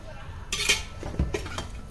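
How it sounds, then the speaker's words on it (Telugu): A spoon clinks and scrapes against a bowl while salt and oil are stirred into a dough mixture, in short metallic taps over a soft background. "మనం ఉప్పు వేసుకొని మొత్తం ఒకసారి కలుపుకుందాం."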